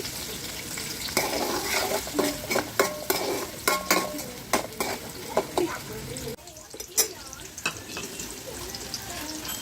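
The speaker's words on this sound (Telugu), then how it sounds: "మీడియం సైజ్ ఉల్లిపాయ వేసుకున్నాను మూడు పచ్చిమిర్చి అయితే వేసుకొని ఇవి కలర్ మారే వరకు అయితే ఫ్రై చేసుకోవాలండి" Medium onion and three green chilies frying in a pan for chicken fry biryani, a steady close sizzle broken by repeated clattering stirs of a utensil against the pan, with a brief quieter pause partway through.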